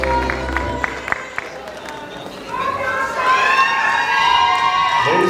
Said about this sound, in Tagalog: Palakpakan po natin, ladies and gentlemen.